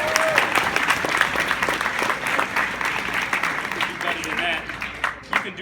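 A large audience applauds the graduating class of Burton Glen Charter Academy, with steady loud clapping and scattered crowd voices continuing throughout before trailing off at the end.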